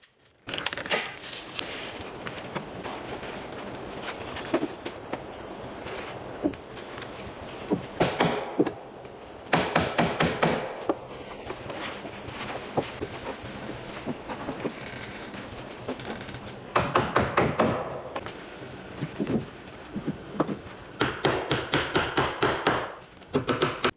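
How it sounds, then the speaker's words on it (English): Hammer blows nailing thin wooden battens over a cabin roof membrane come in bursts of rapid strikes, loud and close, separated by stretches of scraping and handling noise. "Installing thin wooden battens or lathing horizontally over the roof membrane and securing them with a hammer."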